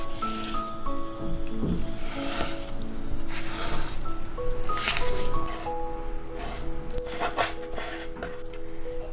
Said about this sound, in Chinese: 洗干净的鸡腿切去骨头